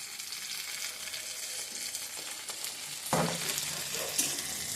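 Tomatoes go into a frying pan of browned ingredients, a steady sizzle that swells sharply with a burst of crackling partway through, close and continuous with no talk.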